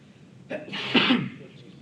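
A single sharp sneeze breaks out in a quiet classroom, a short explosive burst with a brief inhale before it, fairly close.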